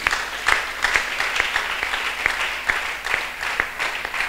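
A church congregation applauds to acclaim the Lord after a prayer, steady rhythmic clapping filling the room with sharp individual claps standing out, no voices heard.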